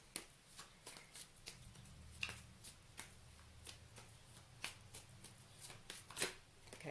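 Tarot cards riffle and shuffle in quick bursts, a dense run of crisp slaps and flutters close by, with a few sharper card snaps standing out.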